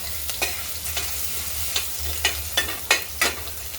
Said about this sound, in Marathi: लसण तेलामध्ये छान परतून घेऊ